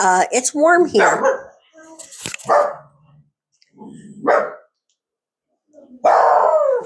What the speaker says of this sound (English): I know you're hearing that. That's my dog.